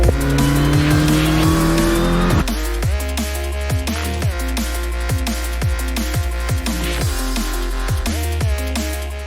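Volkswagen Polo lapping the MMRT race track in Chennai on a hot day, engine loud and close with repeated rising revs and downshifts, tires squealing through corners, no talk.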